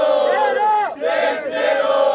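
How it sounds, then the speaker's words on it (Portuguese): Crowd at a rap battle in Cuiabá roars and shouts, many voices yelling together in a loud, sustained wall of cheering with a brief dip in the middle. "Faz barulho pra batalha aí, família!"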